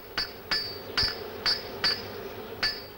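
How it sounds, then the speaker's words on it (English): A hammer strikes a hot chain link six times in a steady rhythm to forge-weld it, each blow a sharp ringing clank, close by with quiet pauses between. "with his hammer, he welds the link"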